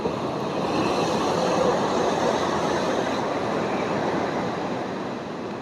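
High-tide waves at the mouth of a river outlet on the sea, a continuous, fairly loud rushing roar of water that stays steady for several seconds with no voices.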